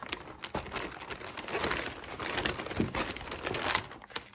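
Bag with art supplies for a kids' fish painting project being opened and rummaged through, with steady close crinkling and rustling of plastic throughout, louder bursts around the middle and end.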